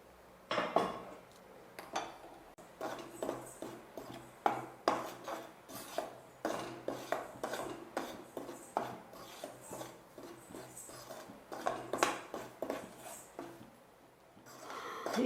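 A spatula scrapes and knocks steadily around a pan as rice flour is dry-roasted for rice puttu, a run of close, repeated scraping strokes with brief pauses and no talking.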